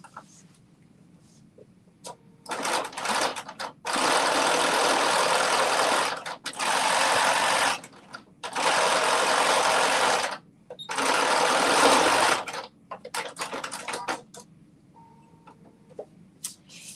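Close and loud, a sewing machine runs in several bursts of one to two seconds, stitching a fabric end closed, with short pauses and small hand-cranked starts between runs.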